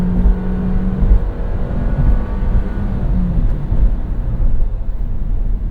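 Two cars roar past on a track in a loud, continuous rush of engine and road noise that swells and fades, with no talking.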